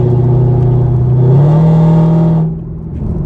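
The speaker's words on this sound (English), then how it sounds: "Gravel truck in front of me. It was destroying me." A heavy gravel truck engine drones loudly ahead on the road, its low rumble rising in pitch, then easing off near the end.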